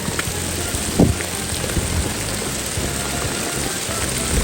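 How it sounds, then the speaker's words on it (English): Heavy rain pours steadily on a village footpath during a hike, a dense hiss of drops hitting the ground and foliage nearby, with one brief knock near the start. "I don't think that the rain will, slow down or abate, so I'm pushing on"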